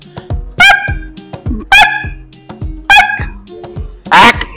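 A man imitates a duck with a string of short, nasal quacking bursts in an uneven rhythm, a few louder calls standing out among quieter clucks, close and alone.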